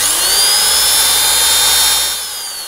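Steady high-pitched electric drill whine while assembling a model sailboat, loud and continuous, easing slightly near the end, with no talking.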